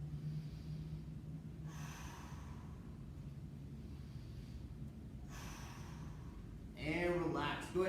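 Deep breaths taken while holding a seated mobility stretch, two slow, airy inhale-exhale cycles close to the mic, with a voice talking briefly right at the end.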